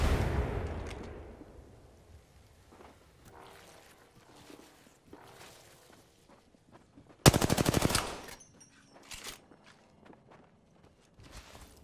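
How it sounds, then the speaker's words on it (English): Video game gunfire: a loud rapid automatic burst midway, with scattered single shots, footsteps and a low rumble spread across the rest. "Getting shot at! Frag out!"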